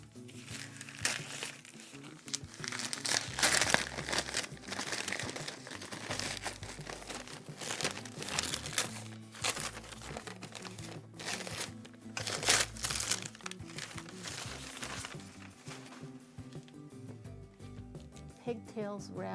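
Packing paper is crumpled and pulled out while unboxing a Lamb LT 150 knitting machine, a long stretch of loud, close crinkling and rustling bursts with a voice talking underneath.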